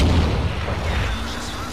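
A heavy tank cannon firing in World of Tanks, from an IS-3 match on the Pearl River map: one loud deep boom opening the moment, then a rumbling decay with game noise and a voice talking over it.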